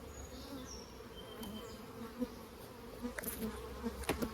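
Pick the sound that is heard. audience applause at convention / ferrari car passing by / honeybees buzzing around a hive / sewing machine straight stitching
honeybees buzzing around a hive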